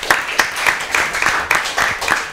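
Student teams in a school quiz show studio clap together in a short, even round of applause, with rhythmic hand claps close by throughout.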